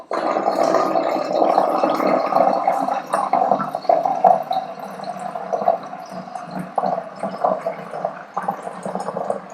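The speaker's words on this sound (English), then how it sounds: "to fill the base with enough water, you can use normal water in it" Water pours steadily into the base of a hookah, a continuous close gurgling fill that holds at even loudness with small splashy fluctuations.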